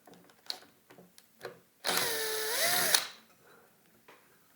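A power screwdriver whirs for about a second as screws come out of a 20-year-old sewing machine, its pitch dipping and rising near the end, framed by soft clicks and handling taps before and after.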